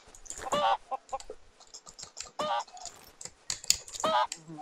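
Minecraft chickens cluck in bursts during survival gameplay, several short calls spaced across the stretch alongside clicking, keyboard-like taps.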